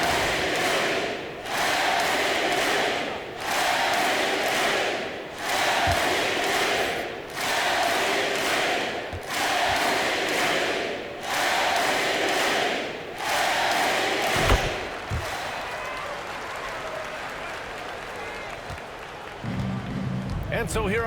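An arena crowd cheers at an NBA 2K22 basketball game between the Los Angeles Lakers and Los Angeles Clippers, its roar rising and falling in repeated loud swells before settling into a steadier, quieter murmur.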